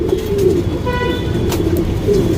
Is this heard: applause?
no